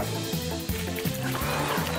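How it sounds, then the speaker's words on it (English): A cartoon dog barks in a rapid series of yips and bow-wows, with whimpering notes among them, set over a busy animated soundtrack. "He's a good doggy."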